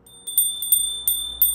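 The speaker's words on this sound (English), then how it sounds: "I'm going to ring this bell" A small bell rung to clear the energy before a tarot card reading gives four or five bright, ringing strikes spaced evenly, each chime lingering close and clear with no talking.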